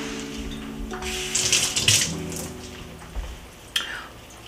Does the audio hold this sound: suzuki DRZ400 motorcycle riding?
no